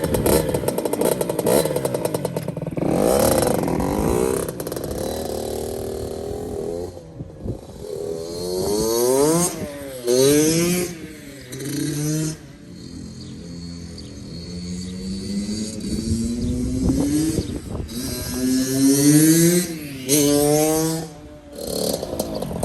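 Two-stroke Kawasaki KX60 dirt bike, freshly rebuilt, revving and ridden, its engine pitch climbing and falling in repeated sweeps as the throttle opens and closes, loud and close throughout.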